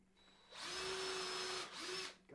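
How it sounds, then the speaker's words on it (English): A power drill whirs up close in two bursts while pre-drilling wood for a bluebird nesting box, a long steady run followed by a shorter one, with a quiet pause between. "I'm going to pre-drill."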